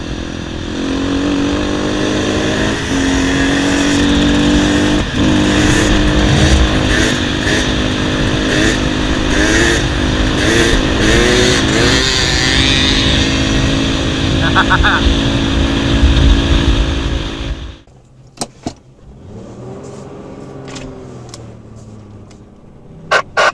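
An overland vehicle climbs a mountain track in the Oregon desert with a loud, steady engine drone close by, while voices talk over it. The drone drops away abruptly near the end.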